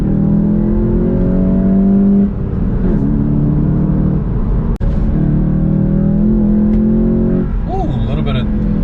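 A 2021 Volkswagen Golf GTI with a six-speed manual revs hard under acceleration from inside the cabin, its engine note rising and dropping as gears change, with a person talking over much of it.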